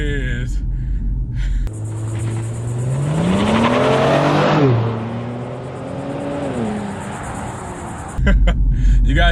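A Kia Stinger GT on launch control roars off the line, engine revving loud and climbing through rising whine as the wheels spin, a sharp burst of acceleration that eases after several seconds, with a voice talking over it.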